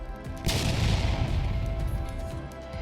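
An explosion sound effect: a sudden heavy boom that breaks into a broad rumbling roar and slowly fades over a few seconds, loud and alone with no voices.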